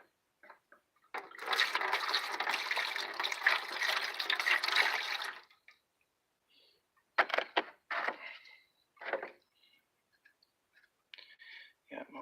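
Water pours in a steady, fairly close stream for several seconds into an electrolysis rust removal tank, then stops, followed by a few short splashes and sloshes.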